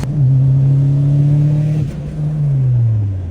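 A car engine held at high revs, droning steadily, briefly cutting out at a 5,000 RPM cutoff and dipping before surging back and then easing down; loud and close.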